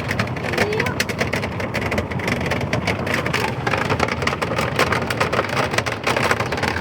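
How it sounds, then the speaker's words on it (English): Hail patters densely and continuously on an RV roof, a steady close rattle of small impacts with no pauses. "Yeah, it's hailing."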